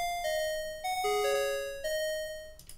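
Synthesized retro chiptune notes made in BeepBox, a short run of clean, bell-like sustained tones stepping between pitches, soft and alone.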